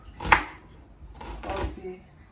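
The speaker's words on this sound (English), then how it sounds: "I'll be chopping these onions for the seasoning" A knife chops onions on a board for chicken seasoning in a Nigerian jollof rice kitchen: one sharp close chop, then a short cluster of softer cuts a second later, with no talk.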